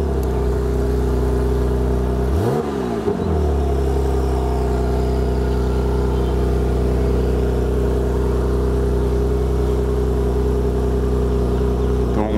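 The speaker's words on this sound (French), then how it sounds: "il y a une voiture qui passe" A car passes close by on a road, its engine note sweeping sharply down in pitch as it goes past, over a loud steady engine drone that continues throughout.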